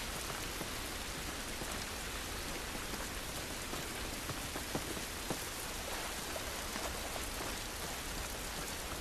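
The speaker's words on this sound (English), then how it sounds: "This rain ain't gonna do us any good." Steady rain in The Last of Us video game falls as an even, dense hiss with scattered droplet taps throughout, with no voices.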